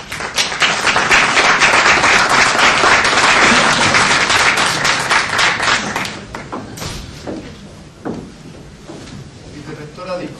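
An audience at the opening ceremony of RetroMadrid 2010 applauds loudly for about six seconds, then the clapping thins out into scattered claps, thumps and handling noises, with a voice speaking faintly.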